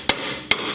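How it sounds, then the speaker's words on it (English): A hammer drives a bolt into a steering knuckle housing with two sharp metallic strikes about half a second apart, loud and close, with a brief ringing between them and no speech. "you just hit it with the hammer"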